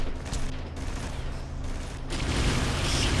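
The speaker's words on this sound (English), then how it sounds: "Stop shooting me from up there." Sustained gunfire from the Red Faction 2 video game, a dense continuous fusillade with bursts that swells louder toward the end. No talk is heard.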